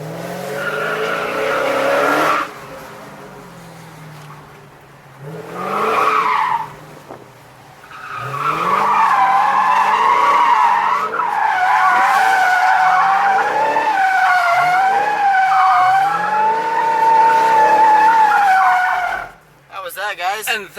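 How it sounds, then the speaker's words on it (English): A Dodge Charger SRT Hellcat drifting, its tires squealing in long loud wavering wails that rise and fall across several passes, with brief gaps between them and voices heard near the end. "that's how you make drift"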